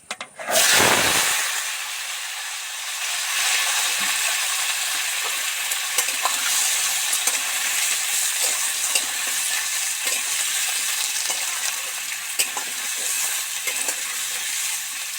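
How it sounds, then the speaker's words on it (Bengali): Vegetables, papaya and potato among them, fry in a pan with dried chillies, bay leaf and panch phoron, giving a steady, dense sizzle that runs without a break from start to finish. "ওদিকে তো সবজিগুলো ভাজা হতেই থাকছে"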